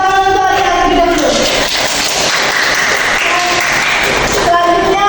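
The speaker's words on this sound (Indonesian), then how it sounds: "tepuk tangan untuk adik-adik kita dulu" Classroom applause for schoolchildren, a sustained, loud clatter of many hands clapping together, with faint voices and room noise underneath.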